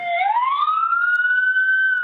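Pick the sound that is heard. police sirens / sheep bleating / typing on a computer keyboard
police sirens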